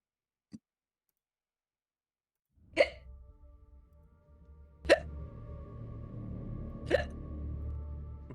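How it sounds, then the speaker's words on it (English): Three distinct hiccups, spaced about two seconds apart, against a quiet background with a low hum rising after the first one. "What do you say for hiccups?"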